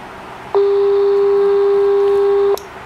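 A telephone ringback tone on a call to a remote participant sounds as one loud, steady electronic tone lasting about two seconds, close and clear, with no talking over it.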